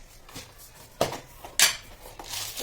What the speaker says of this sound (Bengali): পিঠের জন্য চালটা আমি এখন ভিজিয়ে দিচ্ছি